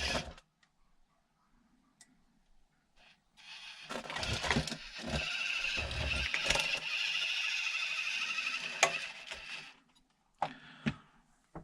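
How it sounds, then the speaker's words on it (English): A hard-bodied RC4WD Gelände 2 1/18 scale RC car drives noisily with a steady whirring, rattling drive noise that runs for several seconds after a quiet start, followed by a few sharp clicks near the end. "The RC4-wheel drives are quite noisy cars, similar to the Rock Hobby Katana, probably because of the hard body."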